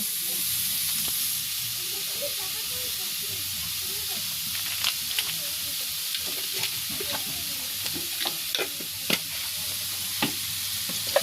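A vegetable momo filling with spices is stirred and mixed in a village kitchen, giving soft scraping and sporadic clinks and taps of a utensil over a steady hiss, with occasional sharper knocks toward the end.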